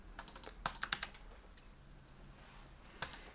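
Computer keyboard keys clatter while someone types a text document: a quick burst of about eight crisp clicks, a few faint taps, a long quiet pause, then another short cluster near the end.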